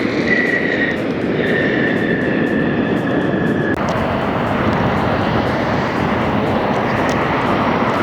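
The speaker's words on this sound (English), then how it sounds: "Here comes Delta 737-900." A Delta Boeing 737-900 passes by at Las Vegas airport, a loud broadband jet roar that holds steady and then swells into a fuller rushing wash partway through, with a thin engine whine early on and no talk.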